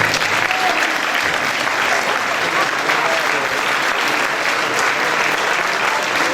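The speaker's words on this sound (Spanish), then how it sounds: "dadle un aplauso" Sustained applause from a crowd, dense and steady clapping throughout with no pauses.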